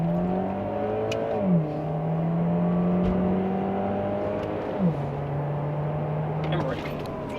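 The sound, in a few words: Cadillac ATS 2.0T accelerating during a full-throttle pull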